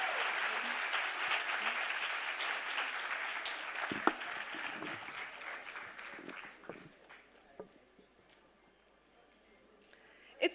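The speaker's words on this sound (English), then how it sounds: "Please give a huge round of applause for both of them." An audience at a women's leadership conclave breaks into sustained applause, dense clapping that stays loud for several seconds and then thins out into scattered claps before fading.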